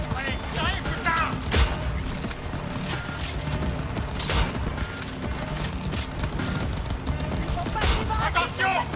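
Gunfire rattles through a Cyberpunk 2077 firefight, with sustained bursts and sharper single shots over a dense background of combat noise, while people shout and talk throughout.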